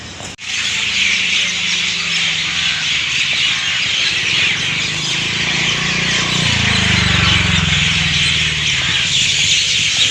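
Dense chorus of birds at dawn, around 5:45 am, chirping and squawking all at once, a constant bright chatter with a low engine hum rising underneath partway through.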